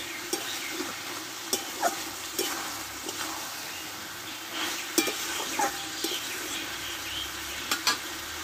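Salted spinach sautéing in a pan, a steady close sizzle and fry broken by periodic scraping stirs of a utensil against the pan, with no voices.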